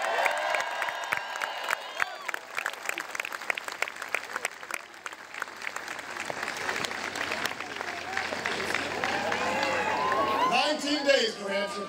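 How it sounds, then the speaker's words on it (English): A large crowd at an outdoor New Hampshire political rally claps and cheers in a broad, sustained roar, with whoops and shouts rising over the applause toward the end and voices mixed in throughout. "Give Ellie a big round of applause."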